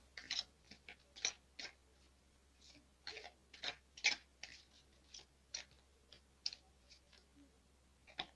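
Quiet, irregular bursts of crisp clicking and flicking as tarot cards are riffled and slapped together, repeating every second or so with soft pauses between.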